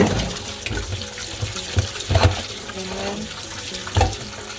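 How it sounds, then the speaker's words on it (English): Water from a kitchen tap splashes steadily while fresh produce is rinsed to clean off pesticides, with intermittent louder splashes and clatters as the food is moved under the stream. "now rinse the water over it"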